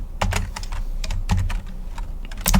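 Close, quick keystrokes on a computer keyboard as git commands are typed and entered, irregular bursts of clacks with a few heavier key hits, no voices.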